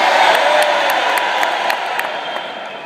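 A business training crowd cheering and clapping, a dense wash of applause with scattered sharp claps and whoops, loud at first and easing slightly over a few seconds.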